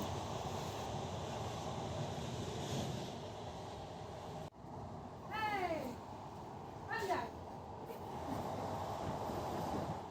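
An express train runs on the rails through open country with strong wind, a steady rumbling roar throughout, briefly interrupted, with a couple of short squealing tones, while people talk nearby.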